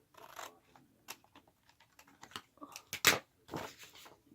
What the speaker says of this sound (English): I will cut that out with my handy dandy scissors